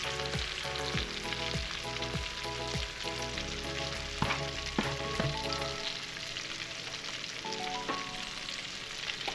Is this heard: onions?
yes